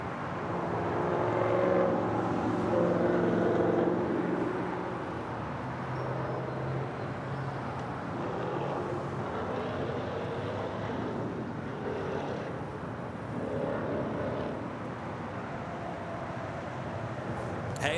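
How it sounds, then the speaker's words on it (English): A Latam Airlines Boeing 787-8 Dreamliner arriving at Los Angeles International Airport from Santiago makes a distant, steady jet roar with wind noise, heard faintly under people talking. "Next arrival here on the south side, Latam Airlines Flight 602 coming in from Santiago."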